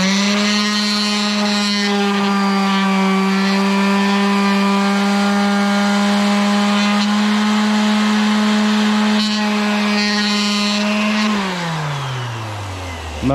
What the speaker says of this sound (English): That was a lot of sanding, but it's done now.